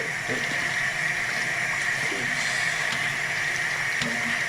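Quinoa being washed by hand in water, a steady, loud rush of running water with continuous splashing and swishing, no talk over it.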